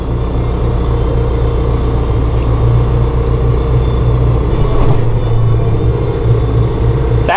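A 2016 John Deere 5100E utility tractor with a Euro quick-attach loader bucket runs with a loud, steady diesel engine rumble that holds close and constant throughout, with no talk over it.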